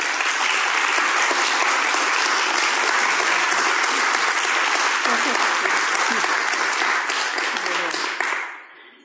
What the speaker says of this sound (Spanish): Yo les pido un fuerte aplauso para Alma,